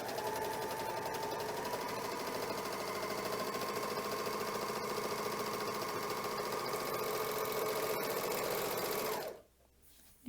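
Janome Magnolia 7034D serger stitching a rolled hem on cotton, a fast, even mechanical whirring hum that runs steadily for about nine seconds, then stops abruptly into near silence.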